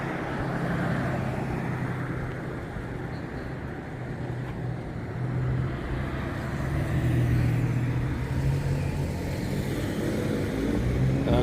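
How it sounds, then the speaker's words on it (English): Steady road traffic on a street around dusk, cars and heavier vehicles rolling past in a continuous loud rumble with swells as individual vehicles pass close by, no talking. "I'm waiting for the traffic to let up a little bit before I cross the street."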